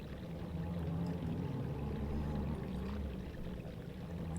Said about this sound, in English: And now the water is running.